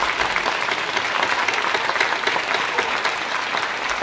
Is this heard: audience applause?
yes